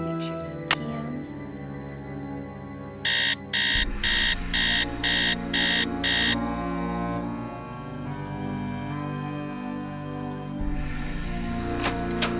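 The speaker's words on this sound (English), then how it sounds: "I'm gonna set the alarm for" An alarm clock rings in the Nancy Drew game Message in the Haunted Mansion, six loud, evenly spaced electronic beeps in a row over steady background music, with no voices.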